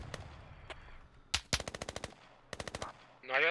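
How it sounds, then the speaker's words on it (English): Rapid automatic gunfire in the military shooter game Squad, two close, loud bursts of about seven shots each, with a few single shots before them and a short whoosh at the end. "Whoa, taking fire."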